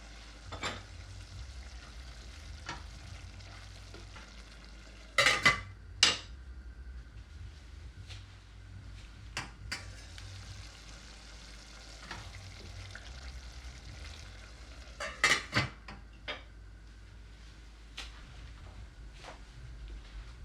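Menemen simmers and sizzles in a pan on low heat, a soft continuous frying hiss broken by scattered clinks and scraping bursts of a utensil stirring against the pan, with no voices.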